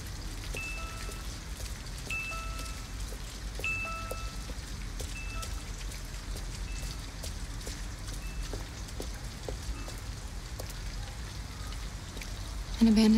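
Steady rain falls in a video game set in a rainy Detroit street at night, a continuous even hiss with faint scattered drip ticks, close and moderately loud throughout, with a brief sharper sound at the very end.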